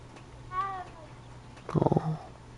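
Short meow from a cat in Hogwarts Legacy, a single near call followed by a rumbling purr-like growl, with a voice speaking around it.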